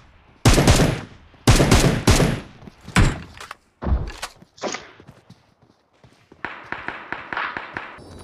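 Gunfire in the mobile battle royale game PUBG Mobile, irregular loud bursts of shots with gaps between, followed by a faster, quieter string of rapid rounds near the end.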